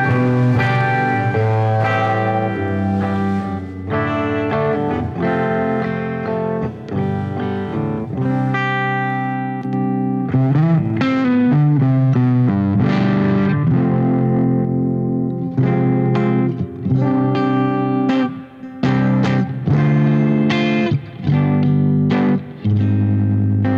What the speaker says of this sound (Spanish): vamos a escuchar cómo suena la guitarra limpia